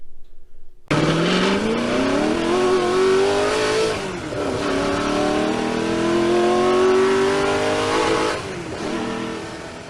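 A 1988 Ford Mustang GT's 5.0 liter small block V8 roars up loudly and holds high revs, its pitch climbing in long sweeps before easing off, close and steady.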